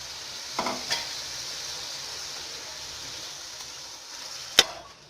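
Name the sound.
stirring minced meat frying in masala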